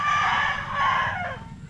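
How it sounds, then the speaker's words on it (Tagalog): A rooster crows once, a loud, strained call close by that rises and trails off over under two seconds, with no talking. "Tandang ni Tatay Mayo, handa ni Kuya Jimmy."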